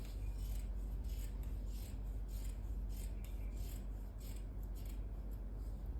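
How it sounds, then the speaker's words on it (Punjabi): Scissors cut through printed suit fabric in a steady, close run of soft rasping snips and rubbing strokes, with no talking. "ਥੋੜਾ ਜਿਹਾ ਕੱਪੜਾ ਕੱਟ ਦੇਣਾ ਹੈਗਾ ਬਰਾਬਰ ਕਰ ਲੈਣਾ ਕੱਪੜੇ ਨੂੰ"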